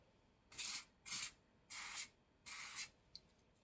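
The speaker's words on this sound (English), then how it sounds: "I'm gonna spray on the left one." Water repellent spray hisses onto an acrylic pour painting in four close, separate bursts of roughly half a second each, ending with a faint click.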